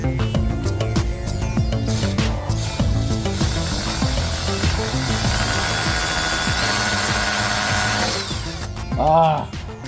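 A power drill whirs and stalls in repeated bursts while struggling to drive screws that will not start, with ratcheting clicks and a rising whine near the end, loud and close.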